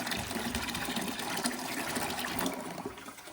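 Rinse water draining and gurgling into the tank of a Weekend Warrior vapor honing cabinet, a continuous close rushing flow with no voices.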